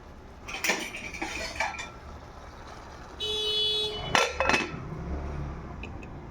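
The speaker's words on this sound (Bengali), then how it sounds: "এবারে আমি ঢাকনাটা ঢেকে দেব" A metal lid clatters onto a biryani pot over low gas, with a few sharp clinks and rattles, a brief ringing scrape, then quieter settling clanks close by, with no voices.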